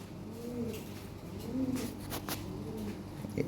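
Lahore pigeons coo softly in repeated rolling phrases, nearby and fairly quiet, with light rustling and a few faint sounds in the background.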